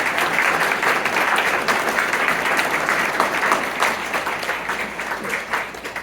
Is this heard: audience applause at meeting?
yes